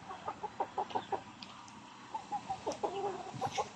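A bantam hen sitting on eggs clucks in soft, steady runs of short repeated notes, close by and fairly quiet, with a pause between the two bursts.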